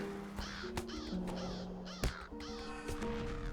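Crows caw repeatedly in the Lord of the Rings Online game during a battle, several harsh calls in an uneven rhythm alongside sharp combat hits and steady background tones.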